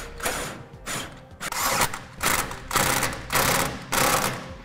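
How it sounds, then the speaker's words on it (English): A ratchet tightens the forward and back bolts on the side plate of a fifth-wheel trailer hitch being installed on a 2011 Ford F-350 Super Duty, giving about seven close, rhythmic clicking bursts of metal ratcheting. "We'll then go ahead and tighten down the forward and back bolt securing the side plate."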